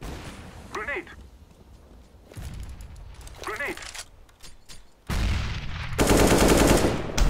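Gunfire in the video game CS:GO bursts out in short rapid volleys, loud and close, separated by quieter stretches of in-game movement and a player talking.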